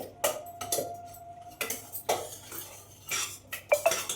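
A utensil mashes boiled potatoes, tomato and carrot inside a pressure cooker pot, producing irregular close metallic clinks and scraping knocks, no talking.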